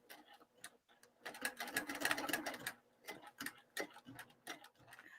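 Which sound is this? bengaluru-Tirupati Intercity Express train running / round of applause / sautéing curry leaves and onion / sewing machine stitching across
sewing machine stitching across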